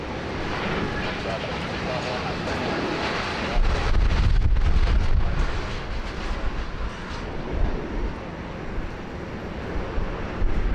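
A UPS Boeing 747-400 flies its downwind approach at Sydney Airport, a steady distant roar with some wind buffeting, swelling slightly in the middle of the stretch.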